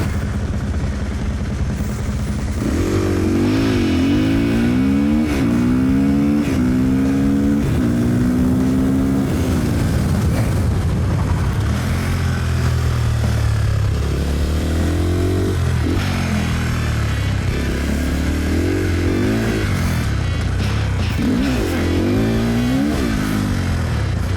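A new Honda Grom motorcycle engine being ridden, droning steadily and climbing repeatedly in pitch as it revs through the gears, with constant loud wind and road noise over the whole stretch.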